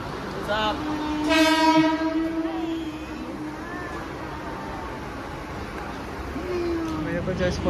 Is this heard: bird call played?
no